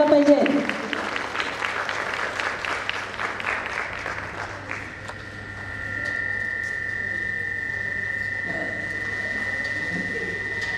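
Audience applause at a preschool annual day celebration, a brisk ripple of many hands clapping in the opening seconds after a brief voice, then fading into a steady hum and tone from the sound system.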